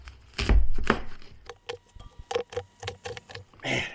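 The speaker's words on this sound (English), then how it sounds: "So stems and all go in here. So let's get it all chopped up." Fresh mint stems and leaves chopped into two-inch pieces for mint wine, a knife striking a cutting board in a handful of sharp, irregular thuds, close and distinct, with no talk.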